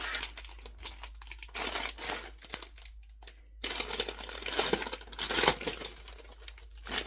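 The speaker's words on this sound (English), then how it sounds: "Sorry about the rustling." Crinkly plastic packaging rustles and crackles in bursts close by while cross-stitch projects are handled, loud and continuous with brief pauses, with no speech.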